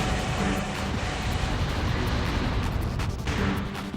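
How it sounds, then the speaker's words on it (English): Missile launcher fire in Armored Core 3: Silent Line, a continuous loud roaring blast of launches and explosions with a few sharper cracks near the end, no clear talking. "I like this missile launcher so much"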